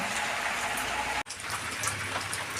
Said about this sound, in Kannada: ಜೋರಾಗಿ ಮಳೆ ಬರ್ತಾ ಇದೆ